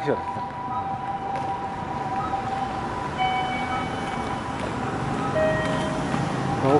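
An ambulance siren wails, rising and falling at a distance as it passes, steady under a constant hum of traffic in Showa Ward, Nagoya.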